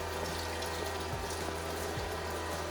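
Steady stream of tap water running over a frozen turkey in a sink, a constant rushing flow with a low pump-like hum underneath, close and even throughout with no talk.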